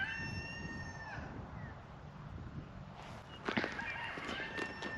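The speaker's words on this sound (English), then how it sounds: "Roosters." A rooster crows with a long, drawn-out call at the start, followed by quieter scuffling, then another rooster crows further off near the end.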